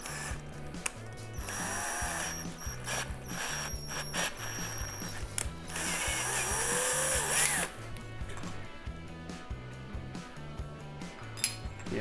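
A power drill boring out a stripped hole in a 331 cast iron engine block, with a drill guide and a little oil, steady whirring broken by short stops and restarts, metallic scraping and clinks, no talk.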